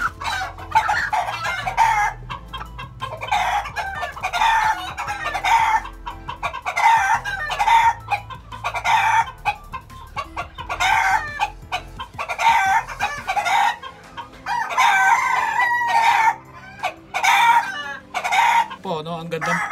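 A four-month-old Boston Sweater gamefowl rooster crows and clucks close by, its calls repeating almost without pause for about twenty seconds.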